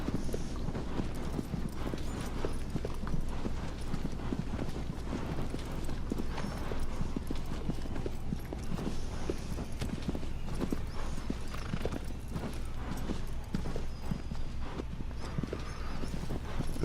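Steady rapid clip-clop of a horse's galloping hooves in Shadow of the Colossus, continuous and even, over a constant low rumble with no talking.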